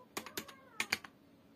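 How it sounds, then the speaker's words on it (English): A few quick, clicky keystrokes on a computer keyboard while entering a localhost address in a browser's address bar, in two short bursts that are close and faint, with no talk. "type on address bar"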